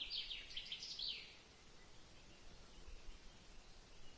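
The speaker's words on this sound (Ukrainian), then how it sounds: "Пташки співають." Birds chirp and twitter in a forest on a May mushroom-gathering walk in Ukraine, a bright cluster of calls in the first second over quiet woodland ambience, then fading to faint background.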